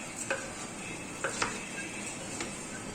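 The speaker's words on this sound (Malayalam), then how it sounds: "ഇതൊന്ന് മിക്സ് ചെയ്യട്ടെ." Biryani stirred in a pot, a few soft scraping clinks of a spoon against the metal rim over a faint steady kitchen hiss, with no talking.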